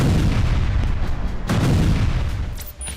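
Artillery shells are fired in Gaza war footage, with a loud, dense barrage of booming blasts in rapid succession and a heavy burst near the middle, close and alone without talking.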